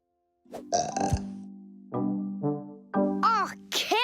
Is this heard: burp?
yes